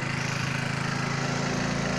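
A John Deere tractor engine idles during refuelling, a steady, loud mid-pitched rumble with a fast regular pulse, continuous and close throughout.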